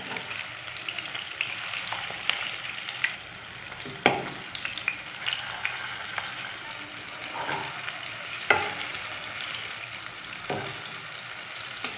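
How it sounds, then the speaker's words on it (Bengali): Banana flower and shrimp fritters fry in hot oil with a steady, close sizzle, broken by a few sharp clatters and louder bursts as pieces are moved in the pan. "এখন আমি তেলে ভেজে নেব"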